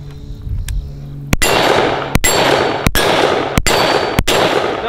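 Unsuppressed gunshots ring out one after another at an outdoor range, five or six sharp, loud cracks spaced roughly a second apart, each leaving a brief ringing tail.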